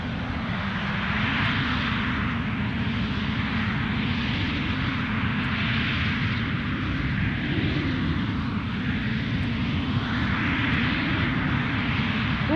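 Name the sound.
Ryanair aircraft taxiing at Edinburgh Airport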